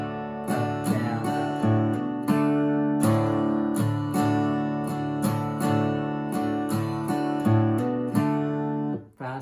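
Slow acoustic guitar strumming of the verse of a song, with open strings ringing in a steady down-up pattern of chord strokes, moderately loud and unaccompanied, fading at the end.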